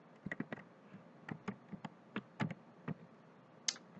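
Someone types on a computer keyboard while building a multiple-choice exam in Excel, with quiet, irregular key clicks in short bursts and one sharper tap near the end.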